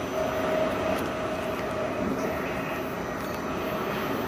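Steady rumble inside a moving passenger train, a constant low roar of wheels and carriage noise with faint rattles, continuous and fairly loud throughout with no clear voices.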